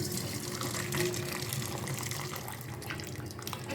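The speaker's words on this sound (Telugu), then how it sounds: "ఈ నీళ్ళన్నీ, దీంట్లో ఉండే నీళ్ళన్నీ ముందు ఉంచేసుకుందాం." Cooking water is poured off boiled brinjals for a Rayalaseema tangy brinjal curry, giving a continuous close splashing stream that runs unbroken for the whole stretch with no voices.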